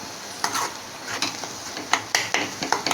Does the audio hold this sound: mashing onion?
yes